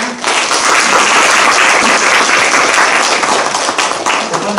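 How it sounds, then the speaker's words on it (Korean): A seated audience bursts into sustained applause as a mock trial opens, the clapping loud and steady throughout with a slight dip near the end. "큰 박수로 맞이해 주시기 바랍니다"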